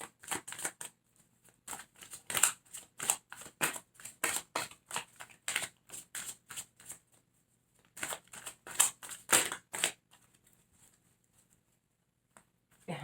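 Tarot cards are drawn and handled during a reading, heard as bursts of quick papery flicks and shuffling taps, close and fairly quiet, with short silent pauses between bursts.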